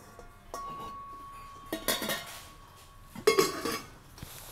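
A heavy bronze pot is handled in a quiet room, giving a few separate ringing clinks and knocks spaced over several seconds.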